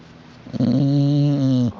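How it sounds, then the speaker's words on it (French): A chow-chow dog gives one long, loud, rumbling snore, close up and steady for about a second before cutting off. "Ah, oui, tu ronfles bien."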